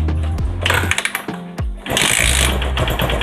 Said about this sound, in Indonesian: Motornya bisa hidup walaupun tidak pakai skring.